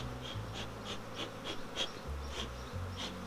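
Honey bees hum steadily around an apiary beehive, a close continuous drone with faint, regular ticking pulses above it and no voices.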